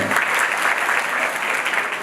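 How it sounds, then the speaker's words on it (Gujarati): An audience of students at a tuition class gathering claps for a child in a dense, steady round of applause that is sustained at a fairly even level throughout. "હા, તાળીઓથી વધાવો બાળકને."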